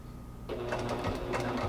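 A sewing machine stitches quilt binding right off the corner, a brief, fairly quiet run of quick, rhythmic needle clatter that begins after a short pause and continues to the end.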